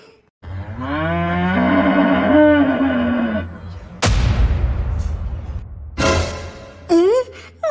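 Cartoon cattle in a jallikattu bull-taming contest give long, loud mooing calls up close, with a sliding pitch. Sudden blasts and crashes follow, and a short voiced call comes at the end.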